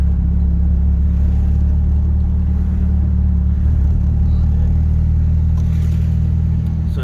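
A Nissan 200SX with a manual gearbox cruises down the road on a Saturday evening, its engine a close, steady, loud rumble from start to finish.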